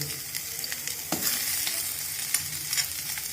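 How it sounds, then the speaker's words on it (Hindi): Peanuts sizzle in hot oil in a pan over a low gas flame while green masala poha is cooked. A steady close frying hiss runs throughout, with a few sharper scrapes and clicks as the nuts are stirred. "अब इसमें पीनट डाल देंगे"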